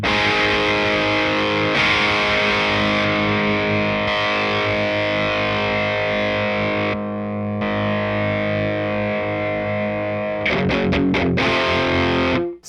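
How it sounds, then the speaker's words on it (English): A heavy, distorted rhythm electric guitar pushed by a Behringer Tube Screamer copy overdrive chugs loud and tight in sustained chords, ending in a burst of quick stabs and an abrupt stop. "We're gonna use a Tube Screamer, in this case a Behringer copy of a Tube Screamer, to make the gain a little bit tighter and to push the front end of the amp."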